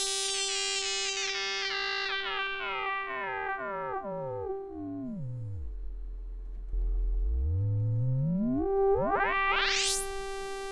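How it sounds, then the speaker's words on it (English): Dreadbox Telepathy synthesizer with a resonant filter sweeping down and then back up, as harmonics glide low before a bright rising chirp; a steady sustained tone played alone, with no voice. "I think that the character of that filter is just lovely"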